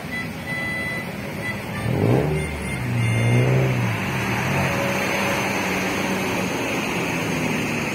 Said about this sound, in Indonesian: Bus pariwisata nampaknya.